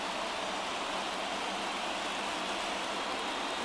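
Steady rain falls across a ballpark in the baseball video game The Show 24, a constant even hiss filling the whole stretch with no talk over it.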